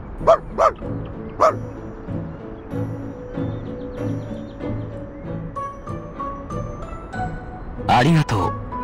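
A dog in the video game Reverse 1999 barks and yips in several sharp close bursts, then gives softer whimpering sounds under a talking voice, ending with a loud cluster of barks.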